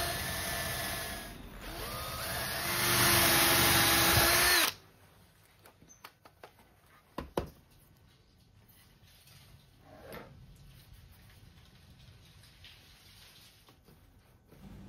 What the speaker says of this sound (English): What I'm drilling here are the holes big enough for the bolts that I wanted to use.